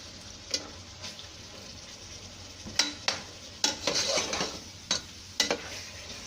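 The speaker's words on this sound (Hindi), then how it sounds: "जरा गोश्त को ऊपर नीचे करें ताकि चारों तरफ से वो पक सके।" Mutton pieces sizzle steadily in a hot pan as they are turned over, with a run of sharp scraping and clinking stirs from the utensil punctuating the frying; no talk.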